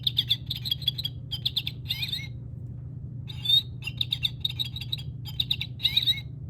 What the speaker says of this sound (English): Oh, it is the goldfinch.